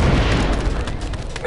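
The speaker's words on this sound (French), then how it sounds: "Explosif prêt. Ça va exploser." An explosive charge going off in the Star Wars: Republic Commando game, a dense rumbling blast that fills the whole moment and fades only slightly, with scattered crackling debris.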